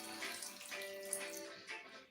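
Three tablespoons of water splash into a pan of sugar for an apple tarte tatin, a brief close liquid pour with a faint trickle that stops near the end.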